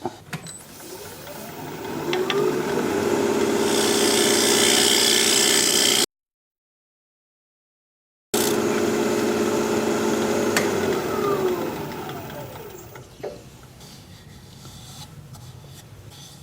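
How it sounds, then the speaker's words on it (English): A tool scrapes steadily against a spinning wooden bowl on a lathe, a loud continuous whirring rasp that cuts out briefly, resumes, then fades as the machine winds down. "Well, I'm going to scrape it."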